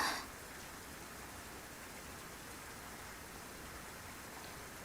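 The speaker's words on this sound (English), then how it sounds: "The rain kept pouring down on her" Rain pours down in the video game Honkai Impact as a soft, unbroken hiss that holds steady from start to finish, fairly faint, with no speech.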